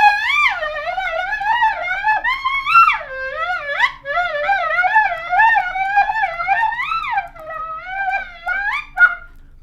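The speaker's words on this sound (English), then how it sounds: "I'm like just wiggling my fingers and scooping and getting the clarinet in a place where it's not really hitting any of the notes" A clarinet plays fast wiggling-finger runs and scooping slides that never settle on real notes, a continuous wavering, swooping line lasting several seconds with brief breaks, played solo.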